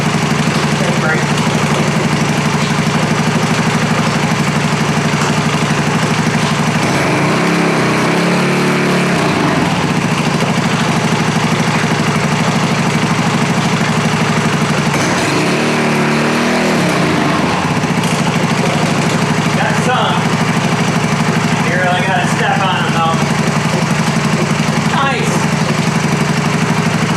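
A newly repaired go-kart engine runs right after its first start, a loud steady small-engine drone with rough rhythmic pulsing; it dips briefly a couple of times and continues throughout.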